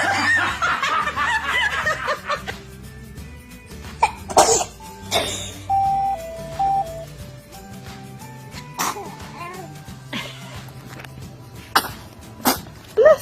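A baby sneezes indoors, a few short bursts scattered among small giggles, snickers and coughs, with an adult's voice now and then and household noise in the background.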